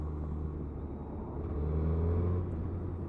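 A 2021 Suzuki Hayabusa motorcycle pulls away smoothly in third gear on a wet road, its engine a steady low rumble that swells slightly as it builds speed, with wind and road noise beneath.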